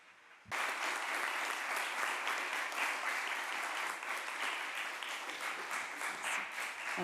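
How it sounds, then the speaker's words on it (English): A press conference audience breaks into applause for two speakers; after a brief quiet moment the clapping starts abruptly and continues as a full, steady, even round of applause with no talking over it. "A big round of applause"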